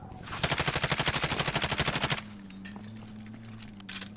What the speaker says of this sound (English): There were guys shooting over in that direction.